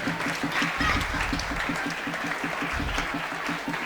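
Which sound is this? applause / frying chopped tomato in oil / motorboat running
applause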